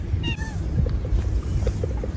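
Feral cats dumped outdoors; a brief meow rings out near the start over a steady outdoor rumble and background noise, followed by faint scattered rustling.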